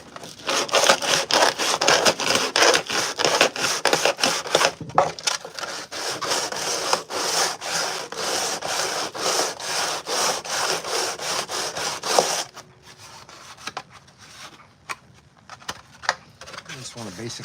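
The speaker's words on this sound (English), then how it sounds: "I'll do a combination of hand sanding, and then I've got a piece of sandpaper taped to the table, to the workbench" Hand sanding of a Purge Trooper armor piece on sandpaper taped flat to a workbench: steady rapid rasping strokes, loud and continuous for about twelve seconds, then quieter intermittent scraping.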